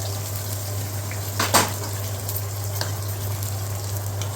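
Two onions sizzle in a hot pan for a mango curry, a steady frying hiss over a low hum with a brief clatter midway.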